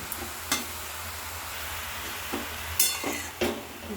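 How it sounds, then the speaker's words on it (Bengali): Grated carrot for halwa stir-frying in a pan, a low steady sizzle with a few sharp scraping stirs of a spoon against the metal, fairly close and quiet, with no voices. "ভালো করে নাড়াচাড়া করে একটু ভাজা ভাজা করে নেব।"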